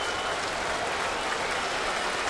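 A Yankee Stadium crowd of Yankees fans roars during a Mets–Yankees game, hoping for a strikeout, as A.J. Burnett works a 1-2-3 inning. The cheering and clapping stays dense, broad and steady throughout, with no voices standing out.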